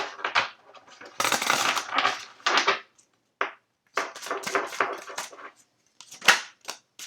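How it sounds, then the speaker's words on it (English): Tarot cards being reshuffled by hand in bursts of riffling and slapping card sounds, fairly close and clear, with short pauses between shuffles and no talking. "Just gonna reshuffle."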